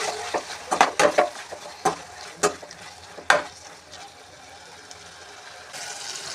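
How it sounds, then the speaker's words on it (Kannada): Tomato and coriander leaves frying in a pan for a Mysore bonda red chutney, with a steady close sizzle broken by sharp clicks and scrapes of stirring and no talk. "ಕೊತ್ತಂಬರಿ ಸ್ವಲ್ಪ ಫ್ರೈ ಮಾಡಿಕೊಂಡು ಗ್ಯಾಸ್ನ ಆಫ್ ಮಾಡೋಣ."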